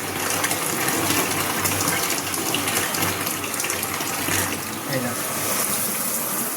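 Shower in a resort bathroom pouring water from overhead, a steady, loud, continuous rush and splash close by that runs unbroken throughout.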